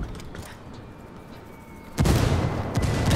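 A frag grenade explodes in a squad-based shooter video game, a sudden loud broadband blast that kicks in partway through after quieter ambient battle noise, followed by a sustained rumbling roar and a second burst.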